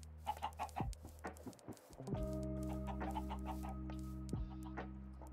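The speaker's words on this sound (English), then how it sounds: "Look at the freaking gang of chickens" Flock of Minecraft chickens clucking in quick overlapping bursts over a steady game music drone, several birds close by and fairly loud.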